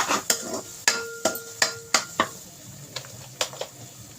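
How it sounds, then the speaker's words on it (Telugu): Masala paste frying in a pan, stirred with a spoon. A spoon taps and knocks on the pan about a dozen times in an uneven rhythm, over a faint sizzle. "ఇలా పచ్చివాసన పోయేదాకా వేపుకోవాలి"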